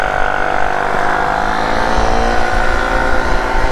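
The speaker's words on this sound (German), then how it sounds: "Ich will den Motor nicht schon wieder zum Überdrehen bringen." A loud motorcycle engine roars steadily at high revs, a constant buzzing drone with slight fluctuations and no pauses.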